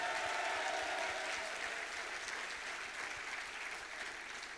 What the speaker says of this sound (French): je vous demande de faire un tonnerre d'applaudissements pour Madame Elisabeth Borne et Stanislas Gué